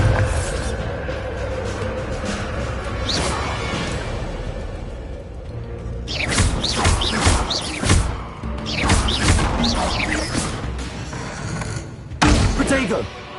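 Bombarda blasting spells strike in the video game Hogwarts Legacy, throwing a run of loud thuds and crashing bursts that land in clusters over a continuous game backdrop.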